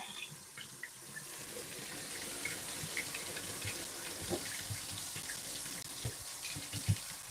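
Tap water runs steadily over freshly picked peppers in a sink, a continuous hiss and splatter with small irregular knocks as the peppers are handled and rinsed.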